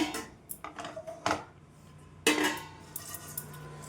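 Roasted poha is tipped from a pan onto a plate in a home kitchen, with several sharp clinks and scrapes of metal utensils and dishware, louder bursts near the middle and end, no talking.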